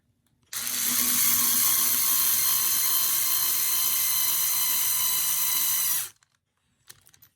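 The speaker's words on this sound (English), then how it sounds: "to help guide this screw all the way through the diff cover" A power driver runs a screw through the diff cover of a Tamiya TT-02 Type SR RC car chassis, giving a loud, steady whirring drone for about five and a half seconds before stopping, followed by faint clicks.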